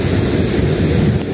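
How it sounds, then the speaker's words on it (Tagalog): Ocean waves strike the shore with a steady, broad wash at a beach in Alabat, Quezon, loud and close, with no talking. "Tingnan niyo yung hampas ng alon"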